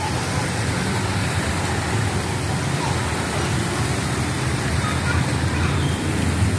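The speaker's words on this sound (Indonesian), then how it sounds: "Masih hujan gerimis." Light drizzle falls outside a house, a dense, even wash of noise that holds steady throughout with no distinct drops, voices or other events.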